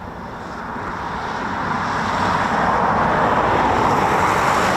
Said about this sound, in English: Oh, that's a fast taxi in Typhoon.